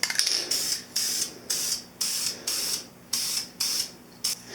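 An aerosol can sprays paint onto the front fender of a 1983 Honda CB1000 custom motorcycle in about eight short, evenly spaced hissing bursts with brief pauses between, loud and close.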